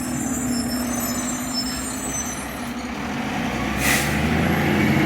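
Garbage truck rumbling nearby on trash day, a steady low engine drone with a sharp hiss of air brakes near the end, loud and continuous outdoors with no speech over it.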